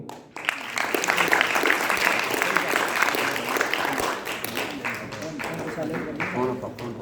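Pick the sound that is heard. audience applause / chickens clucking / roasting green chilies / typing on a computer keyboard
audience applause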